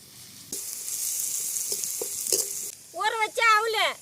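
Carrots and beans fry in hot oil with salt, a steady hissing sizzle with a few stirring knocks, then a voice speaks over the pan near the end.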